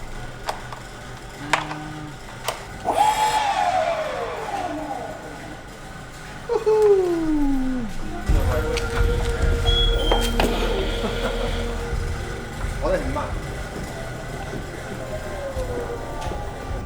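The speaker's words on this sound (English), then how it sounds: "What this test does is it runs current through the motors for a set amount of time, multiple times." Enertion electric motors run under a repeated current test, producing rising and falling whines and tonal sweeps that repeat in cycles, followed by a lower rumbling hum, with ticking sounds and talk partly mixed in.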